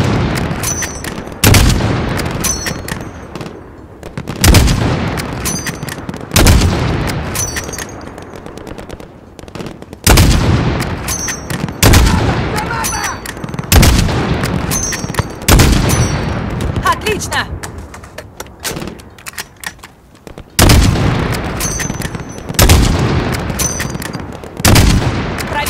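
Heavy gunfire from the video game Call of Duty Modern Warfare (2019), loud repeated bursts of automatic fire and booms in rhythmic volleys, with shouted voices at times among the shooting.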